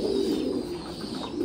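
Fantail pigeons coo nearby in a low, rolling, throaty murmur that swells and fades steadily across the short moment, with no voices.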